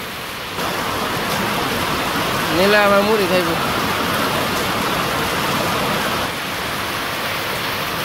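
Steady rain falls over a Bangladeshi village, a dense even hiss that carries on throughout, with a person speaking briefly over it.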